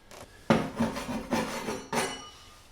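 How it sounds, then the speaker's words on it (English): A plywood board is rubbed against a chipboard board during a bathroom vinyl plank install to knock down bumps, making four scraping, knocking strokes in an uneven rhythm, close and fairly loud, with no talking. "which is basically this plywood board rubbing on this chipboard board."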